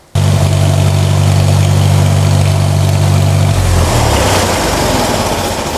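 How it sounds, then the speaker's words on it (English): A tractor engine with a 6-volt electrical system roars loudly at high revs, a steady close mechanical drone that shifts slightly partway through. "With the tractor running and the engine revved up"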